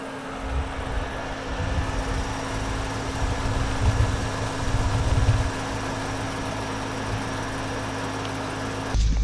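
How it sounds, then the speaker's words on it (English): A BMW M3 engine idles with its stock exhaust, a steady close rumble with a deep throbbing low end that swells slightly in the middle before settling. "I love the way this engine sounds."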